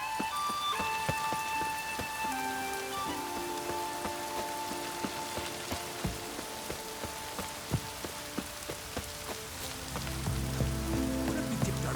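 Heavy rain falls in the video game The Witcher 3, a steady hiss of drops on surfaces mixed with sustained musical tones and soft scattered ticks, no speech.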